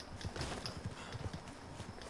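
Horse hooves clip-clop at a steady walking rhythm in the Red Dead Redemption 2 video game, soft and moderately near over a low ambient background.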